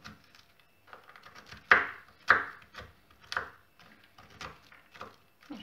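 A knife chops walnut kernels on a board, giving close, sharp knocks in an irregular run, with a few hard strikes standing out between softer taps and no one talking.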